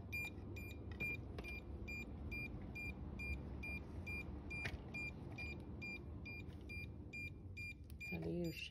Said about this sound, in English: Gonna be beeping the whole time.